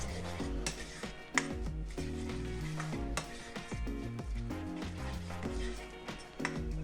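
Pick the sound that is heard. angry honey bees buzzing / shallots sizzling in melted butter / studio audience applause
shallots sizzling in melted butter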